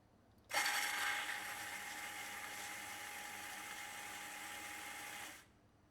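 A coffee grinder grinds beans in one steady, loud burst of about five seconds. The whirring hum starts abruptly and cuts off cleanly.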